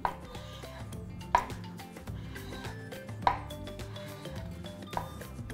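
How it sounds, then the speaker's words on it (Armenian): Knife chopping grilled eggplants on a board, a few distinct sharp cuts spaced between quieter rubbing and slicing sounds, close and moderately loud, with background music and no talking. "Հիմա կտրատում ենք մեր խորոված սմբուկները"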